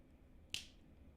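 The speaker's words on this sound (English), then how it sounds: "Then you're going to click the cubes together" Plastic linking cubes snap together once with a single crisp, sharp click against a quiet background.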